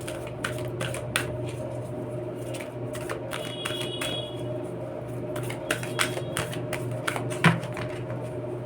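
Tarot cards being shuffled at a reading, giving repeated brisk riffling flutters in a steady rhythm over a constant low hum, close and fairly quiet.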